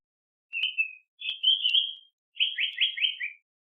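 A Japanese paradise flycatcher calls alone against silence: two clear, drawn-out whistled notes, then a quick falling trill of several rapid notes, bright and close.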